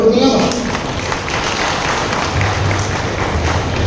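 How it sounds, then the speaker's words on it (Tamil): Audience at a college alumni meet applauds a speaker, steady broadband clapping filling the clip with a brief voice at the start. "அவருக்காக ஒரு கைத்தட்டு கொடுத்துலாமா?"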